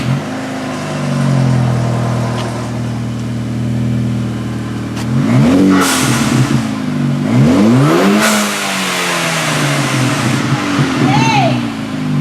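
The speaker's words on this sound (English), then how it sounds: "Cold start." A VW MKV GTI 2.0T with an AWE cat-back exhaust starts from cold, settles into a steady idle, then takes several sharp revs that rise and fall, loud and close, with people talking around it.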